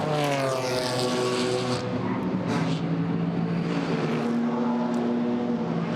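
GT4 race cars, including a V8 Racing Chevrolet Camaro, lapping the Misano circuit in the GT4 European Series, their engine notes rising and falling as several cars pass in sequence over a constant roar.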